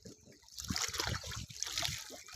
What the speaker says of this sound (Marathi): बघा किती पाणी आहे बघा नदीला आमच्या भरपूर आले